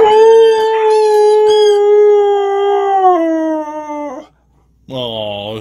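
A husky gives a long, loud, sustained howl that slides slowly downward for about four seconds, breaks off into a brief silence, then starts a fresh howl up close.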